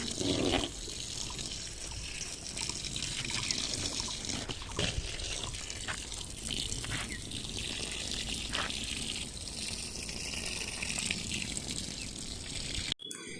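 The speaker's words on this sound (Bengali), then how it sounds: "বসানোর পর জল দিয়ে দিচ্ছি ভালো করে জল দিয়ে ভিজিয়ে দিচ্ছি" Water is poured over freshly planted taro seed in crates on a rooftop garden, giving a steady close splashing trickle that runs throughout and cuts off at the end.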